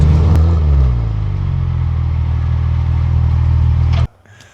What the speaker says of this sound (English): now you have the power of that 997 engine just singing along